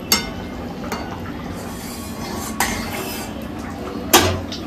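Metal utensils knock and clink against a kadai in a home kitchen while neem leaves and potatoes are being fried, three sharp clatters spaced a couple of seconds apart over a low background hum.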